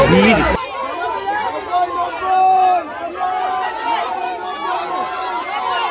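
A dense crowd chatters and calls out at a busy cattle market in Shahjanpur, a loud, continuous babble of many overlapping voices close by.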